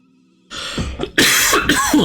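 A single close, loud cough, preceded by a brief throat-clearing rasp.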